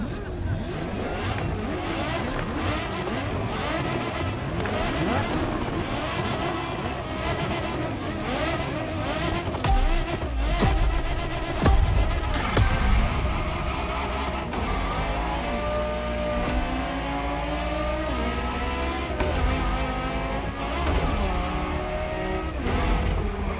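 A Porsche Carrera GT racing in The Crew Motorfest, its engine steadily loud and revving with rising and falling pitch sweeps, gear changes and a brief skid, over a continuous bed of game audio and music.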